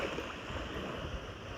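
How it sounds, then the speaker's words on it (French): Sea waves wash onto a beach on a sunny January day, a soft continuous surf hiss mixed with wind noise on the microphone. "Peut-être vous pouvez entendre les vagues."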